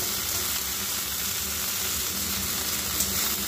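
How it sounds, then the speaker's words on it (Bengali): Chopped vegetables and shrimp fry in a hot pan with a steady, close sizzle. The sizzle stays even throughout, with no talking. "সবজিগুলো খুব ভালোভাবে আমি এইভাবে একটু হালকা করে ভেজে নেব।"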